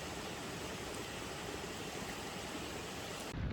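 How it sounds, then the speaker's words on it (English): Waterfalls along a riverside path beneath trees produce a constant broad rushing roar, steady and even for several seconds with no distinct splashes or voices, before a brief bump of handling noise at the end. "we followed a peaceful riverside path where the sound of waterfalls echoed through the trees"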